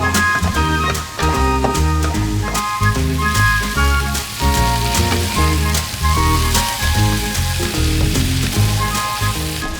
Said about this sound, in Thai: เจียวกระเทียมเข้าไปก่อน